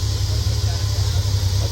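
A Triumph TR6 engine idles steadily on its own, a continuous low rumble with faint hiss holding even throughout, close and fairly loud with no breaks.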